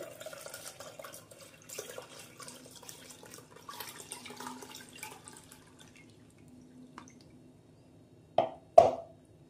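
Ragi milk strained a second time through a double-layer filter, faint soft dripping and trickling into a cup, ending in two louder splashy drops near the end.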